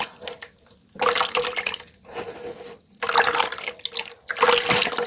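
Water pours in bursts into a container of redissolved, watery clay, with several loud splashing pours separated by brief pauses, close and with no talking.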